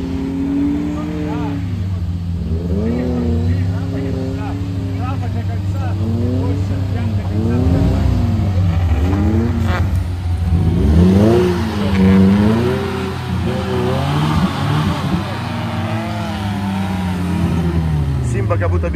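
Off-road vehicle at a trophy sprint event pulling out of a deep puddle, its engine revving hard and loud in rising and falling surges for a long stretch, with a voice talking over it.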